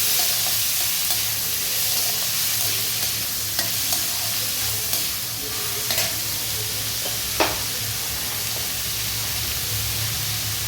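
Mustard seeds, urad dal, chana dal and curry leaves frying in hot oil, a dense, loud hiss held throughout with faint occasional pops and a brief scrape.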